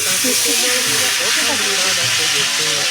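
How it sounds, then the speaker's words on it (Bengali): Onion, ginger, garlic and green chilli paste fried with sour yogurt for a fish korma, a loud continuous sizzle and hiss close up with bubbling underneath. "সেটা ভালো করে আমি এটা কষাতে থাকবো যতক্ষণ না তেল আসবে"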